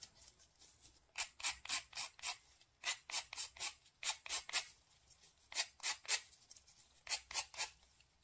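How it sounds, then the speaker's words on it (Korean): Rhythmic rasping strokes of a file on the edges of a resin pendant, in quick bursts separated by short pauses, close and fairly quiet with no talking. "파일을 이용해서 가해 부분을 천천히 사포질 해주세요."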